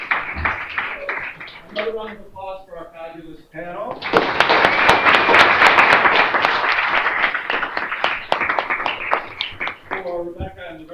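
An audience bursts into sustained applause for the judging panel at a law school moot court final, with dense clapping swelling loud for several seconds; a voice speaks before it and again as it fades.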